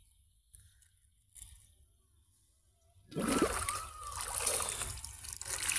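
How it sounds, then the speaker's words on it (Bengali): A person dives into water while fishing with bamboo tube traps: a quiet stretch, then a sudden close splash about halfway through, followed by continued churning and sloshing of water. "আবার ডুব দিল দুর্জয়।"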